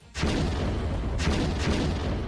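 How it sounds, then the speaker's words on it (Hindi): Russian artillery cannon firing shells in a wartime field position, heard as a sustained loud rumbling roar with two broad blasts roughly half a second apart near the end, no voices. "रूस के 2 सैनिकों ने तोप में गोले भरे और फिर इशारा मिलते ही तोप से गोले दाग दिए गए।"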